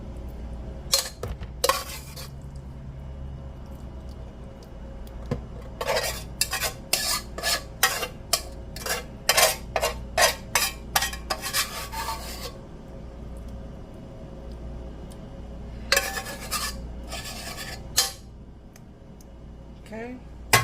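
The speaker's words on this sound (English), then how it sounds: "now we're going to put the rest of our Philly mix" A vegan Philly cheese steak mix goes into a pan for macaroni and cheese. A utensil scrapes and pushes it around in quick rhythmic bursts of rasping, close by, separated by quieter pauses with some voice.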